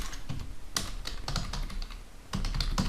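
Typing on a computer keyboard while writing HTML code, a quick run of clacking keystrokes with a short pause midway, close and moderately loud with no voices.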